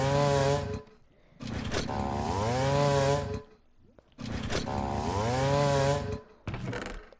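A video-game chainsaw from the ORES+ mod revs loudly in long, sustained bursts, rising in pitch as each one builds, then cuts out briefly before the next surge, with about three roaring runs and a short final burst.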